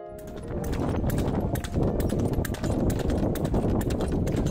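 Hooves clip-clopping steadily as a horse trots along a road on a trip home from Nepal to Kolkata, loud close rhythmic strikes continuing throughout with no talk.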